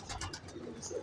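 A pigeon coos softly in a short, low burble close by, with a faint rustle around it and no talking.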